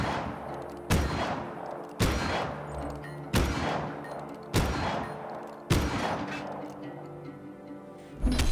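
Gunfire from weapons in the video game Just Cause 3, loud booming shots in a regular rhythm, about six blasts spaced roughly a second apart, each trailing off into a rumbling decay.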